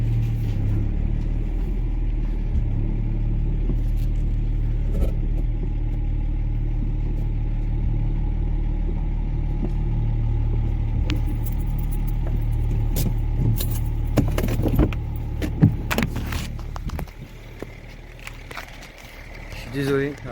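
A BMW car's engine runs steadily at close range, a continuous low rumble filling the background, with some handling clatter and jingling toward the end.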